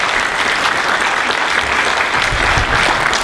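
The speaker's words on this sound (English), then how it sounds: "We owe him a special round of applause." A community appreciation gathering gives a man who stood up a sustained round of applause, dense steady clapping from a large audience filling the room, loud and continuous throughout.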